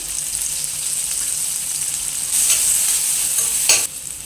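Capsicum pieces fry in a pan for pasta with a constant close sizzle, and a louder burst of stirring and scraping comes near the end.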